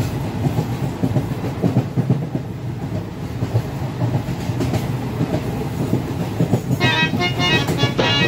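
A train on the way to Tirupati rolls along with a steady, close rumble and rhythmic clickety-clack of wheels on rails, joined near the end by brief high-pitched squeals.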